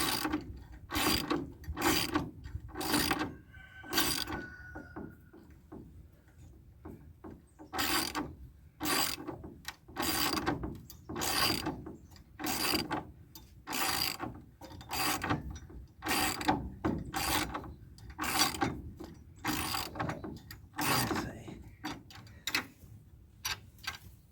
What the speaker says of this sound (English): get these lag screws in as much meat as I can